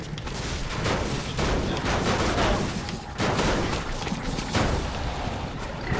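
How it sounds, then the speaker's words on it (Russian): Rapid, dense gunfire during a Fortnite match, loud bursts following one another almost without pause, with a brief lull partway through. "Это в нас стреляют со снайпы?"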